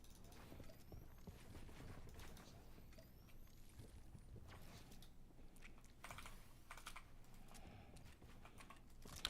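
Typing on a cheap GK61 mechanical keyboard with red switches, a steady run of soft clacking keystrokes close by over a low background hum throughout.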